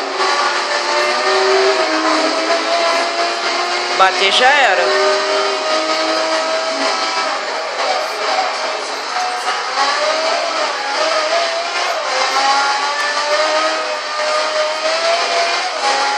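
Pagani Zonda supercar in Forza Horizon with its engine revving hard and continuously, pitch rising and falling through gear changes, loud and up front while people talk over it.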